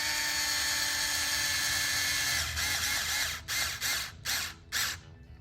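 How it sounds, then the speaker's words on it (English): A power driver runs screws into a Tekno SCT410.3 short course RC truck kit, a close steady whirring that breaks into several short bursts near the end as the screws are tightened down. "the second screw, or the last screw, is generally the one that I tighten fully first"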